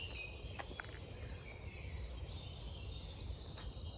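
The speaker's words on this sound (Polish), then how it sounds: "Tu ptaki zawsze tak słychać mocno." Birds chirping and singing at a distance in a park over a steady outdoor hum, with a few sharper calls standing out briefly.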